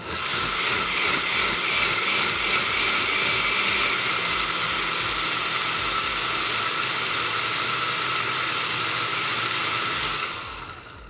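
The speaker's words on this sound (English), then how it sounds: "Okay, so I'm going to blend it more." A kitchen blender whirs loudly and steadily as it purees roasted chilies for a salsa roja base, a rattling motor drone that holds for about ten seconds before spinning down.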